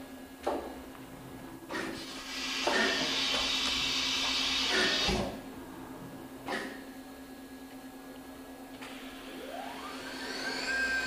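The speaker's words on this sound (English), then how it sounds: "Simulating a tool change, you have an umbrella style tool changer with 20 tools capacity." A Fadal VMC 2016L vertical machining center's umbrella-style 20-tool changer cycles through a simulated tool change, with loud whirring motor runs, sharp mechanical clunks and a rising whine near the end, close and mechanical.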